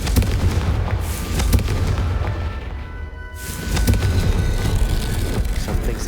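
A Confringo blasting spell goes off in the Hogwarts Legacy video game, heard as loud, rumbling booms within dense, continuous game noise. A brief quieter dip comes midway before the heavy blasts resume.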